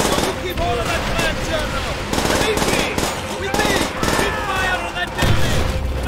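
Rapid machine-gun bursts and scattered rifle shots from the Call of Duty: World at War video game rattle continuously, loud and close, with players talking over the battle.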